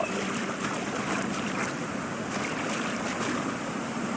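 Water and waves in the video game Clair Obscur Expedition 33: a steady, even wash of rushing water and surf, broadband and continuous, with no talking over it.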